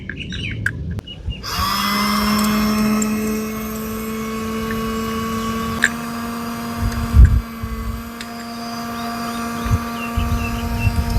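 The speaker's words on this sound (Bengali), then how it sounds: "মোটর দেখেন গাইস চালু হয়ে গেছে গা" A 12-volt 775 DC motor driving a metal pump hums steadily after switching on from a battery. Its tone is constant and close, and clicks and handling knocks can be heard over it.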